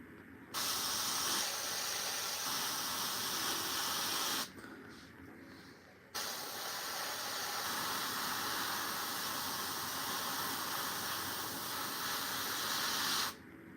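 Airbrush spraying paint onto a Warhammer miniature: a steady, close hiss in two long bursts, about four and seven seconds, split by a short pause.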